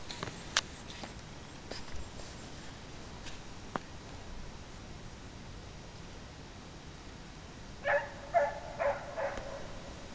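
A hunting hound out chasing hares barks faintly in the distance, scattered yelps early on and a clearer burst of barks near the end, across a quiet outdoor field.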